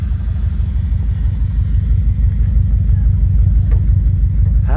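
A 2007 Subaru Impreza fitted with a Tsudo exhaust idles loud and close, its deep, steady pulsing rumble filling the space with no clear rise in revs. Faint voices are heard briefly near the end.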